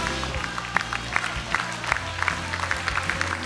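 A studio audience claps for an arriving guest on a television show, with moderate, steady applause and some crowd noise under a faint musical hum.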